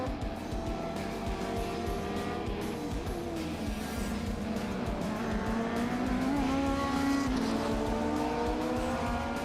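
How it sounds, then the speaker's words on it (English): Race cars overtaking at the Hungaroring during a classic car race, loud engines roaring and shifting in pitch as cars pass close by, with tire noise and no talk. "Martin O'Connell wanted the lead back badly, and therefore he overtook Yves Skemama."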